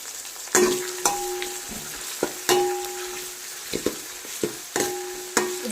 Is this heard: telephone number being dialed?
no